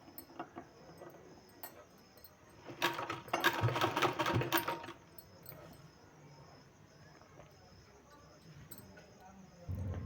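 A sewing machine stitches along the folded hem of a palazzo pant in a short burst of rapid whirring lasting about two seconds, with quieter room sound on either side.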